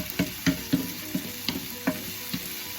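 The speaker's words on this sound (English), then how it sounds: "my stove is on medium to low. And I want to continue to stir this off." A utensil scrapes and taps around a pan of food sautéing on a stove at medium-low heat, in a quick series of distinct strokes over a soft steady sizzle.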